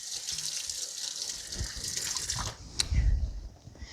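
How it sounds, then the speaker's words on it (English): A kitchen tap runs while hands are rinsed, a steady splashing stream that shifts as the hands move under it, then turns off with a short clunk and a last gurgle of draining water. "Okay, let me give my hands a quick rinse."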